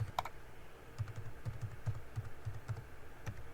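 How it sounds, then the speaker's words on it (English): Keys tap on a computer keyboard as a password is entered: soft, close, fairly quiet clicks in an uneven rhythm, with no talk. "I'm going to enter a random password here."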